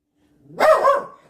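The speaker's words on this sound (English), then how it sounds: "As my dog barks, right?" A single loud, close dog bark rises out of silence, a full-throated woof lasting under a second with a slight trailing tail.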